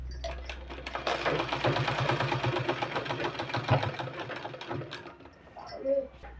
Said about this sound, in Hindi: इसमें एक सिलाई और लगा देना